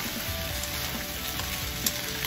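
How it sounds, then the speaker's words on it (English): Radish cake pieces and egg stir-fried in a wok with XO sauce, giving a steady, dense sizzle close by with soft scraping from gentle stirring and one brief louder clack near the end. "You want to gently stir to cook the egg."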